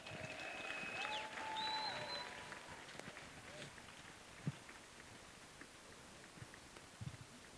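Congregation at a worship and thanksgiving festival clapping in applause, a burst of hand claps in the first few seconds that fades into quieter room sound with scattered knocks, a sung note heard briefly over it.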